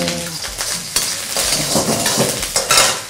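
Wide rice noodles with mushroom sauce are stir-fried in a pan, a loud, close sizzle with repeated scraping and tossing strokes in quick succession, no voices.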